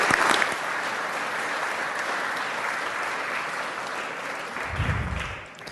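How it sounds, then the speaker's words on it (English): Applause in a state legislative chamber, the Utah House: a dense, steady clapping of many hands that swells briefly at the start, holds for several seconds, then fades at the end. "Join with me in giving them a round of applause."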